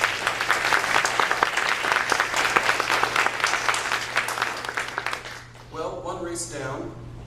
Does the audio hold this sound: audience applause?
yes